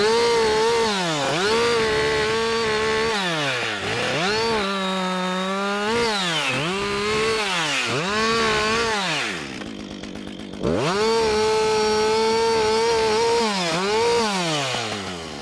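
A chainsaw bites into a standing tree during a felling cut, loud and close, its engine pitch dropping under load and rising again in repeated surges, with a brief lull near the end before revving back up.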